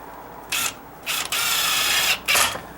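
Drill-driven 2-inch screws sinking through half-inch OSB into wood for a deck column repair: three whirring bursts of a driver spinning, each lasting a fraction of a second to about a second, close and fairly loud.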